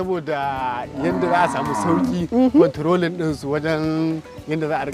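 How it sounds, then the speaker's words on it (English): A small herd of cattle mooing: several overlapping, long, drawn-out lowing calls, loud and close, with pitch swoops running continuously across the moment. "this is a small herd because we want to make it easier to control the cattle"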